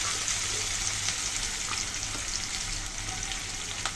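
Slit green chillies sizzle in hot oil in a pan for tilapia curry while being stirred, a steady crackling fry with light scraping, close and fairly quiet.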